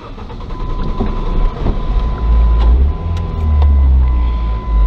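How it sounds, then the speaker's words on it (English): A manual-transmission car engine starts up, a low rumbling crank that catches and settles into a steady, loud idle drone close by, with no talk. "I'm gonna go start the car"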